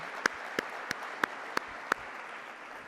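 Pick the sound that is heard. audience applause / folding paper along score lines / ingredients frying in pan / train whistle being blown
audience applause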